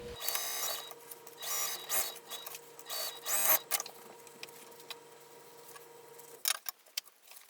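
A sewing machine stitches a bag's lining panel closed in a few short whirring bursts with pauses between them, then stops, leaving a quiet room with faint handling clicks.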